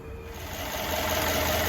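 A Mercedes-Benz W222 S500 idles steadily just after starting, following a coolant expansion tank and pipe replacement, a continuous close engine drone with a faint high whine and no voices.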